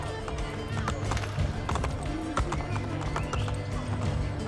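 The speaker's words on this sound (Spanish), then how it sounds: "Y tenemos caballo, así que... bien." Horse hooves gallop at a fast, steady clip-clop in the Assassin's Creed Brotherhood video game, with an occasional whinny, under voices talking.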